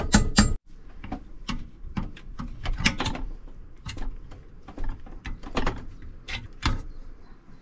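Chiseling out a tack-welded seat rail bracket on a car: a series of sharp, irregular metallic strikes and knocks, fairly close and moderate in level, spaced across several seconds with no talking.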